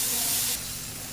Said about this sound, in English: Just take it onto the hot grill and let that sizzle begin